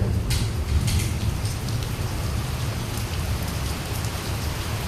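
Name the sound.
heavy rain while camping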